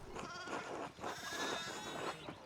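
Sheep bleating in Pentiment, a sixteenth-century village game, several overlapping bleats in a steady rhythm with a background of game ambience.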